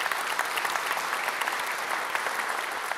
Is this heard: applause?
yes